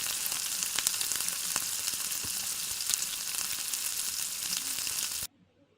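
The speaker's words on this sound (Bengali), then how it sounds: "দেখো ভালো করে কীভাবে ভাজা হচ্ছে" Prawn-head chops deep frying in oil, a dense continuous bubbling sizzle with small pops and crackles, close by, cutting off abruptly near the end.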